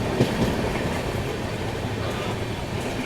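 Steady, dense rumble of the 12351 Howrah–Rajendra Nagar superfast express running just after leaving Fatuha Junction, with faint clickety-clack of wheels over rail joints and no talking.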